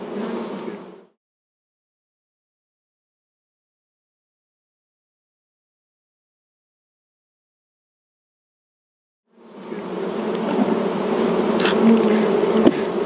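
Honeybees in hives holding more than ten frames each are readied for winter with mite treatment strips. They buzz in a dense, close hum that cuts off briefly, leaves a long silent gap, then returns and swells louder.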